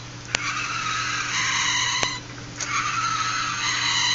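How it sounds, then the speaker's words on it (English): A small fischertechnik model run by a TXT controller whirs as its motor drives the gears, producing a steady, fairly loud whine that rises and dips. A few sharp clicks punctuate the whine. "I see the gears moving"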